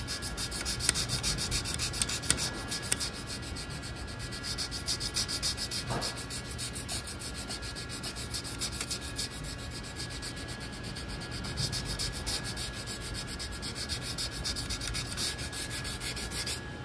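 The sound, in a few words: sanding sponge on wooden flintlock rifle stock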